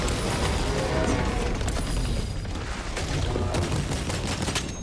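Sustained, dense gunfire from the video game Space Marine 2 rattles on without pause, loud and close, with a player's voice briefly over the barrage.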